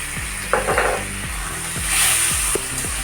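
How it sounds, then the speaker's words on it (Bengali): Spice masala frying in a pan for a bata fish curry with potato, aubergine and tomato, mustard paste added: continuous close sizzle with repeated scraping stirs of a spoon against the pan, no speech. "ভালো করে মশলাটা কষে নেব কষানো হয়ে গেছে এবার আমি দেবো সরষা বাটা দিই"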